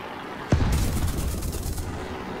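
Aircraft 20mm cannon fire in War Thunder, a sharp bang opening into a rapid, sustained burst of heavy automatic shots over engine drone, loud and close.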